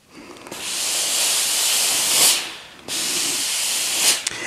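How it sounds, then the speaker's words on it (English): Steam hisses from a longarm quilting machine onto fabric stretched on the frame in two strong sustained bursts separated by a short pause, loud and close with no talking. "And now I can steam."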